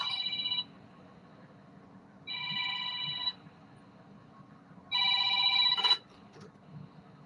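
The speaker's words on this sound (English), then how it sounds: "I got a 20 and my phone's ringing" A phone rings three times in separate electronic bursts, fairly close, with quiet gaps between rings and no talking.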